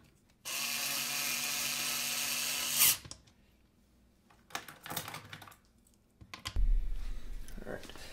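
Small 4-40 screw being cinched into a drilled and tapped hole on a recirculating chamber build, heard as a loud steady whirring burst for a few seconds, then scattered quieter clicks and handling noises.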